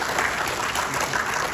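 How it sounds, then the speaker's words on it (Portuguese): Audience clapping for the city councillors at an inaugural lecture of a legislative excellence course, a dense, steady round of applause filling the room with no voices over it. "uma salva de palmas para todos os vereadores."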